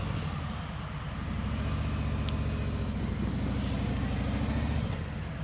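A motorcycle engine runs at low speed with a steady close-up throbbing idle and slight throttle, while the rear brake holds the bike in a slow turn. The rumble stays even throughout and no voices are heard.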